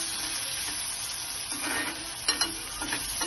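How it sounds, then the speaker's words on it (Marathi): Onion, garlic and tomato sizzle and fry in a pan while being stirred, a steady close crackle with scraping stir strokes rising near the middle and end, no talk. "कांदा थोडा पोळल्यानंतर त्याच्यात टोमॅटो टाकायचे, त्याला पण चांगलं पोळायचं।"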